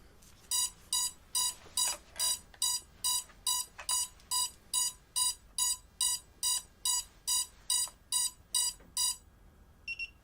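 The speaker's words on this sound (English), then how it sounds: "so now it should go beep beep." A GEPRC Cinelog 20 FPV drone powering up emits a long run of about twenty evenly spaced, bright electronic beeps, close and clear with no talk over them.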